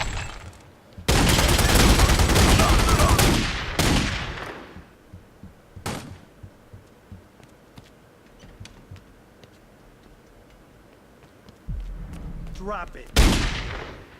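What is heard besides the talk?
gunfire in the video game Godfather 2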